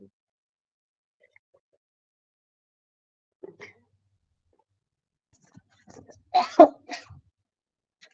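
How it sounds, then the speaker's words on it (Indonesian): A few short, sharp coughs close to the microphone, clustered together after a quiet stretch with faint breaths. "Maaf, saya lagi batuk."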